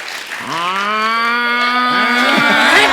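A voice imitates a buffalo's moo in a comedy show, a loud drawn-out lowing call that bends upward and holds, followed by a few shorter broken grunts.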